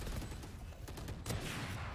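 Gunfire crackles through a video game match as a dense, rapid burst of close shots, with a brief louder flurry partway through.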